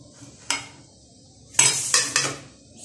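Minced meat being stirred into a hot zucchini stuffing mix in a pan, a few sharp scraping clinks of a utensil against the pan, one isolated then a cluster of three close together, near and fairly loud.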